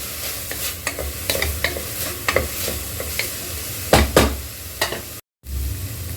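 Watermelon rind sautéing with salt and turmeric brings a close, busy sizzle punctuated by repeated spatula scrapes and stirs, a couple of strokes louder than the rest, with a brief dropout near the end.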